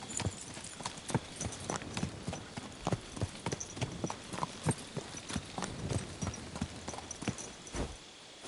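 Horse hooves clip-clop at a steady walking rhythm in the medieval video game Kingdom Come Deliverance 2, close and distinct over a low ambient background.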